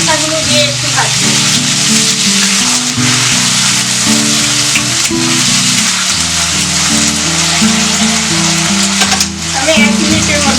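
Vegetable stalks sizzle as they fry in a pan for a mixed vegetable dish, a steady broadband hiss running through the whole stretch beneath prominent background music.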